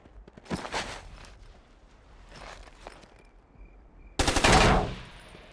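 Gunfire in the video game Ghost Recon comes as a short burst, a few scattered shots, then a loud sustained automatic volley near the end, heard without talking.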